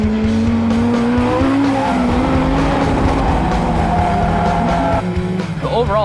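A Vortec-supercharged Honda S2000 is driven hard around the Willow Springs track. The engine note climbs steadily through the gears with a whining tone, loud and close throughout, and tires chirp briefly near the end.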